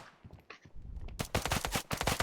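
Rapid automatic gunfire in the Standoff 2 shooter game rattles loud and close, a dense burst of repeated shots after a few scattered quieter impacts.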